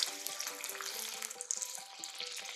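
Dahi vada batter frying in hot oil gives a steady, close crackling sizzle with dense popping bubbles and small irregular spits throughout.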